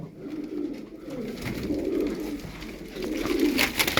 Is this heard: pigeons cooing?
yes